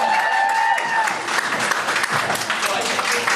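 A student audience at Swansea University claps loudly and continuously, a dense wash of applause with a brief whistle-like tone near the start.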